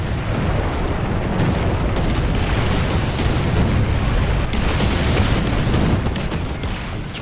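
Artillery strike explosions landing in a tank video game, a dense continuous barrage of booms and rumbling blasts filling the whole stretch at steady loud level, with no talk.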